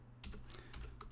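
Quick, light keystrokes tapping on a computer keyboard while entering a date into a software setting, a handful of soft clicks close by and alone.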